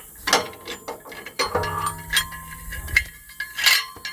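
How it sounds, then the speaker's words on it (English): Metallic clinks, rattles and ratcheting clicks as an old barn pulley is handled and hung under a home's soffit, close and irregular with a ringing tone in the middle. "now I'm going to go ahead and hang the pulley"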